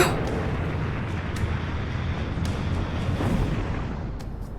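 Missiles fired in an Ultraman Omega episode: dense, rumbling blasts and roaring bursts, with a few sharper cracks, loud and continuous for several seconds.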